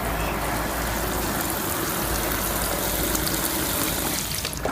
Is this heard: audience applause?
no